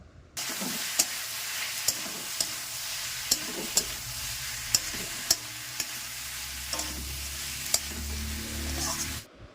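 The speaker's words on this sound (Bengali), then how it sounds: "এবার চিকেনটাকেও দিয়ে দিলাম এবার একটু নেড়ে ছেড়ে" Fried chicken being stirred in a pan with chilli, tomato and soy sauce: continuous sizzling and frying with sharp, irregular scrapes and clicks of the spoon against the pan, close and fairly loud.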